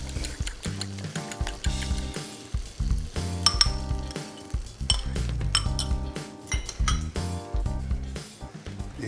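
Tomato seasoned with salt and pepper is stirred in a pan, producing a busy run of close metallic clinks and scrapes over a soft sizzle, with uneven bursts of utensil knocks and no talking.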